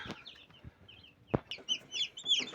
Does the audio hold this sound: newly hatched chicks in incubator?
yes